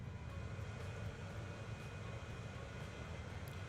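An aircraft in the Transport Fever video game drones steadily throughout, a continuous low engine rumble holding at an even level with no voices over it.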